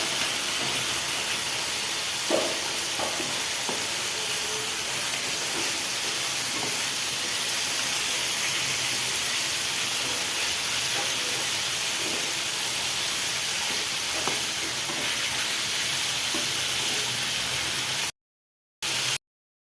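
Spice-coated fish fries in a hot pan with a steady, dense sizzling hiss that runs unbroken and close for nearly twenty seconds, marked by occasional small pops and crackles.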